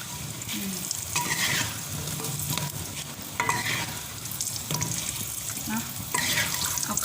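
Battered fish and chips deep-frying in oil in a home kitchen, a continuous crackling sizzle with stirring clatter and scattered sharp pops, close and fairly loud, without talk.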